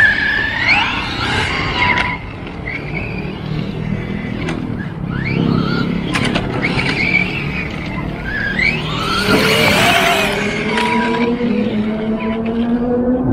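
A Reely RC car at full throttle on a short street stretch, its high electric whine rising and falling in quick sweeps, with tire scrubs and a steady outdoor background.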